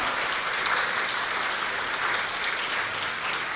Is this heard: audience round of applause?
yes